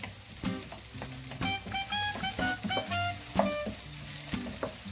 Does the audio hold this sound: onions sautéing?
yes